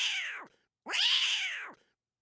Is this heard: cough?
no